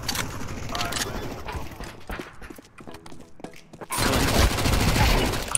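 Gunfire from the player's own weapon in Counter-Strike 2, with a dense burst of shots that grows loud and sustained toward the end amid game noise.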